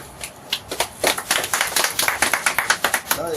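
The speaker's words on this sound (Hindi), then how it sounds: "इनका भी तालियों के साथ स्वागत है।" Scattered hand clapping at a political party event in Jammu, a small group's irregular claps that settle into a rhythmic series of sharp, close slaps, with faint voices underneath.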